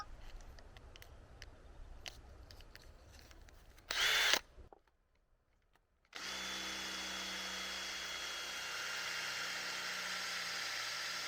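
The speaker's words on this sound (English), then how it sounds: "I have the correct depth to drill the hole so it's not too deep." A power drill drilling a hole in wood for a raised garden bed whirs loudly for a brief burst, then falls silent, followed by a steady higher-pitched drilling hum that runs on continuously.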